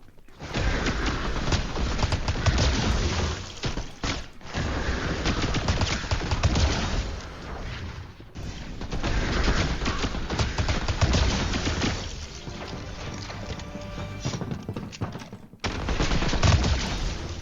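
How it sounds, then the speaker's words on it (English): Rifle fire in Fortnite, with dense, continuous bursts of loud shots that run almost nonstop and break off in a few short pauses before resuming. "I like to bring a rifle just to gun her down faster"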